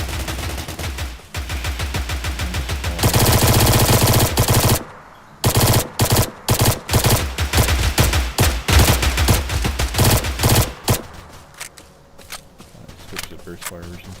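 Rapid burst-fire gunshots from a video game firearm ring out in loud, repeated volleys, with sustained automatic strings broken by short gaps and clustered bursts, over continuous game background sound.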